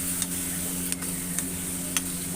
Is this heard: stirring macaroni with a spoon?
yes